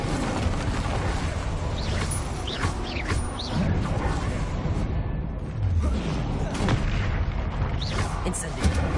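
Incendio fire spells cast in Hogwarts Legacy combat burst out as loud, dense booms and whooshes, one after another, over continuous battle noise.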